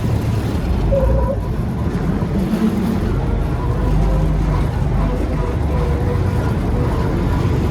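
A John Deere 730 combine harvester engine drones steadily throughout, low, loud and close, with a constant rumbling hum and no pauses.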